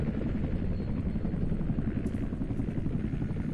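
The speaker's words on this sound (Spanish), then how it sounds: "Viene un helicóptero." An approaching helicopter in the video game F.E.A.R. 2 makes a steady, loud rotor chop and engine drone. The thumping holds a throbbing rhythm throughout, and no speech is heard over it.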